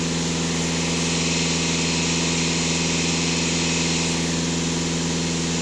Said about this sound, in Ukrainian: Автомобіль сам газує, провіряє.